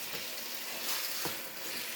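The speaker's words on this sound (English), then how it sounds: "let it simmer here for just about 5 minutes so it can get all the flavors in it" Ramen noodle stir fry simmering on low heat in a pan, a steady close sizzle and bubbling hiss lasting throughout without pauses.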